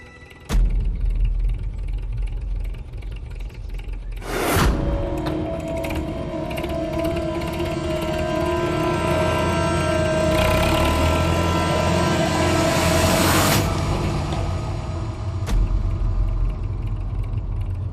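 A farm tractor's engine cranks with a sharp clatter, catches and settles into a steady mechanical diesel running drone, close and loud, with metallic clicks and a brief rise in pitch partway through.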